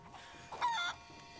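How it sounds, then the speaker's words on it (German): A chicken in the video game Rise of the Tomb Raider gives a short, quiet clucking call that lasts about half a second, set against a faint, low background. "Kann ich das Huhn werfen? Ich kann das Huhn werfen."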